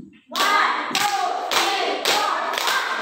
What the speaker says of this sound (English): I want you to give yourself 5 claps.